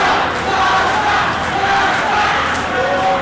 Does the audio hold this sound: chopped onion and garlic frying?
no